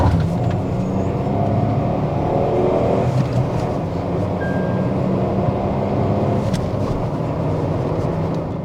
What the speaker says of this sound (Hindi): चलिए अब करने जा रहे हैं हम 0 to 100 टेस्ट टाटा अल्ट्रोज का